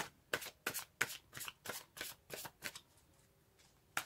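Tarot cards shuffled by hand in a run of about nine crisp, evenly spaced riffling bursts, close and clear against a quiet room, with no talking.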